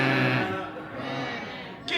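A crowd at a holiday party comedy show joins together imitating a reindeer call, a blended, droning chorus of voices that swells and fades over two seconds, ending with a sharp burst of noise.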